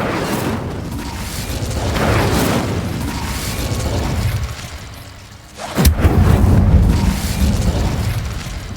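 Incendio fire spell from Hogwarts Legacy: a sudden loud blast bursts out partway through, followed by a sustained roaring whoosh over ongoing game ambience.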